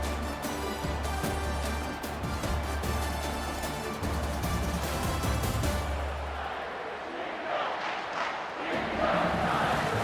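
Crowd at an Arkansas Razorbacks versus LSU Tigers college football game roaring in a stadium, a loud sustained swell of cheering and chanting that keeps building.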